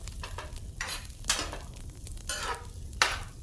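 Cheese and corn mixture being stirred in a pan, a spoon scraping and sizzling in short repeated strokes, close and fairly quiet with no voices.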